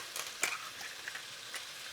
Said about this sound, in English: And then just mix it all up, coat it really well.